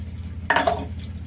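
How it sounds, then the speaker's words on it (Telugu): Water splashes briefly into a pot of thick simmering sambar, a single short burst midway over a low kitchen hum. "కాస్త నీళ్ళు పోద్దాం"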